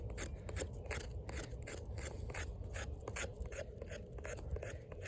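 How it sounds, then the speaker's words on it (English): Close, steady rasping as an Oerla OLK-035PK drop-point 420HC knife blade is scraped repeatedly along wood to raise fluff, a fast continuous scratching rhythm with no voices. "You can see I'm scraping. If you want to make some fluff,"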